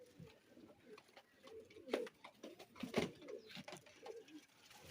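Several pigeons coo in soft, repeated low calls, likely from fancy high-flying pigeons kept in a loft, with bursts of rustling and wing flutter around them at close range; no talk is heard.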